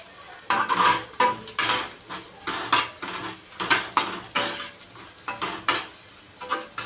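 A spoon stirs turmeric into masala dosa potato filling frying in a pan, with repeated scraping and clinking strokes and a soft sizzle underneath, close and steady throughout.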